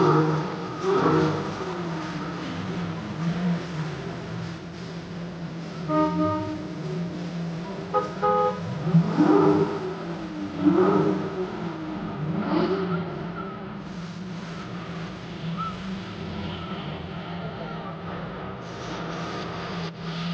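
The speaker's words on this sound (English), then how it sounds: "This is the annual Corvette parade coming through the town of Carlisle, Pennsylvania." Chevrolet Corvettes rolling through the annual Carlisle, Pennsylvania parade, steady engine rumble with a few rising revs from passing cars, moderately close amid outdoor street ambience.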